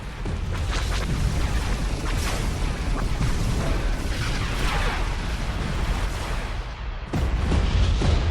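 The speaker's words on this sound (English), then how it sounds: "Tornado missile." Dense, continuous barrage of Tornado missile explosions in a Star Wars space combat game, rumbling booms overlapping throughout with a brief dip then a fresh burst of blasts near the end, loud and without talk.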